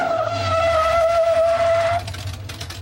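A race car at a Summernats event locks its brakes, and the tyres give a loud, sustained tonal squeal over engine noise that cuts off after about two seconds.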